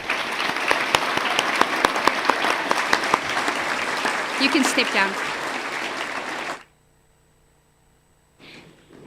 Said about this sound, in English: Let's give this group a big round of applause.